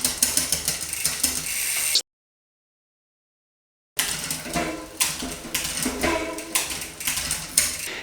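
A bicycle rear derailleur shifts across the cogs while the chain and freewheel tick and clatter mechanically, loud and close, in two bursts separated by a stretch of silence.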